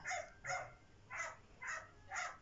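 A small dog yaps five times in quick succession, faint and somewhat distant, with short sharp barks at an even rhythm.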